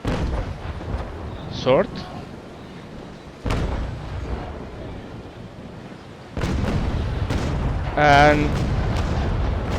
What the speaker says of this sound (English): well, some hits. Not the best broadside ever, but that's okay.